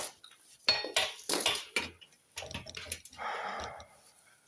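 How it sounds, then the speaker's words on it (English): A steel chisel is hammered into a rotten wooden floor beam in an old stone house, several sharp, close metallic knocks and clanks in an irregular burst, followed by scraping and crumbling sounds. "whacking the chisel in there"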